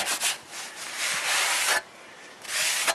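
Paper towel rubs over cooling wax that has hardened after melting in a wax melter, giving a close, dry scraping swish. It comes in a long steady stroke, pauses, then starts again.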